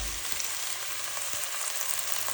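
Onion and tomatoes frying together in a pan for a creamy tuna pasta with mushrooms, giving a steady, close broadband sizzle with faint crackles throughout and no talking.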